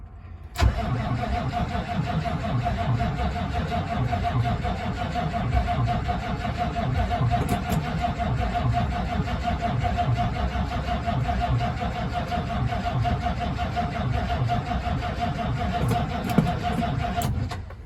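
An old car that has sat unused since 2022 cranks over and over with its starter, a loud, steady rhythmic churning that runs almost continuously without catching, with a faint murmur of voices in the background.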